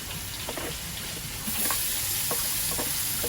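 Spice paste tipped into a hot pan with chicken sets off a steady frying sizzle that jumps louder halfway through, with soft scraping stir strokes over it and no talk.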